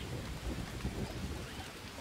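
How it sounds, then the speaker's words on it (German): Steady rainfall in the jungle survival game Green Hell, a dense even hiss of drops with low rumbling patter throughout, fairly quiet and with no voices. "Es regnet doch gerade."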